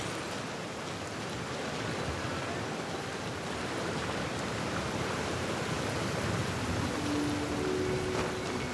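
Steady rain falls in the video game Genshin Impact, a dense, constant hiss at even loudness with a faint tonal hum near the end and no talk.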